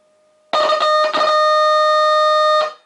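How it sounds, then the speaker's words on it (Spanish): A loud, steady electronic whistle from a tube radio amplifier, with a harsh buzzing edge, starts abruptly, wavers briefly near the start, holds, then cuts off. "Como veis hay un buen pitido"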